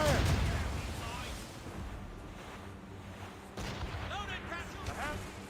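Ship cannons firing in Assassin's Creed Rogue during a naval battle, a loud opening blast followed by rumbling booms and scattered crackling shots, with no talk over them.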